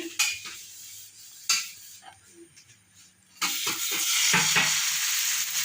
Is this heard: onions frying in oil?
yes